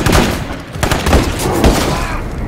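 Rapid bursts of gunfire from powerful guns in the State of Decay 2 video game, loud and close, with several sharp shots crowding together over a short span.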